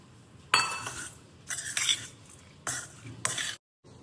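Lemon juice being stirred into cooked lemon rice with a spoon, in three separate bursts of scraping and clinking against the vessel, close and fairly loud, with quiet pauses in between.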